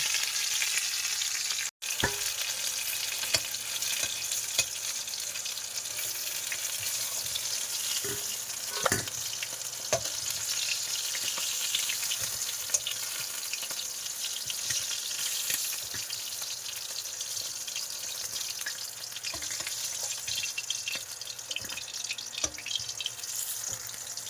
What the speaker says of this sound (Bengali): কি সুন্দর করে লাল লাল করে মাছ ভাজা করে নিয়েছি